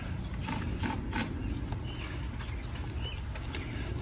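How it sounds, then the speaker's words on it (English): A tubing cutter works around line set tubing during a Fujitsu ductless mini split installation, producing faint, quick metallic clicks and ratcheting ticks in short bursts over quiet room noise. "then we're going to cut the tubing with the tubing cutter"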